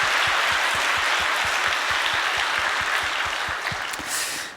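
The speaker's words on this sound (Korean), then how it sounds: "우리 다시 한번 힘찬 박수로 격려해 주시면 감사하겠습니다" A church congregation at a Sunday mission-day service claps together, a dense wash of applause carrying a steady rhythmic beat of unison claps, fairly close and continuous before tapering off at the end.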